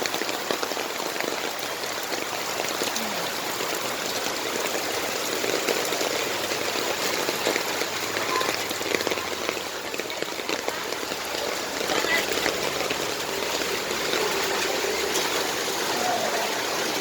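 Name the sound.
flowing flood water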